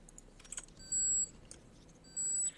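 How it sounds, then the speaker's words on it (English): Electronic beeping in a space video game around a crashed capital ship: two high, clean beeps, each about a third of a second long, separated by a pause, over faint clicks and a quiet background. "Beep, beep, beep."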